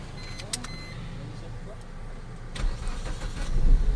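Suzuki Swift car engine being started after a no-start diagnosis, a starter crank followed by the engine catching and rising into a louder idle, heard close with some clicks beforehand.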